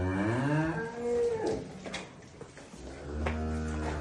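Young calves on a cattle farm moo in long, drawn-out calls, several overlapping bleats rising and falling, loud and close, with a second lower moo near the end.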